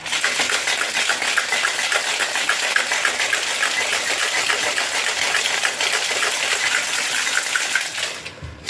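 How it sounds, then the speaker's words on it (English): Ice rattles hard inside a cocktail shaker as a margarita is shaken in a fast, steady rhythm for about eight seconds before stopping abruptly, close and loud with no talking. "when you're shaking something like this, put the opening over your shoulder"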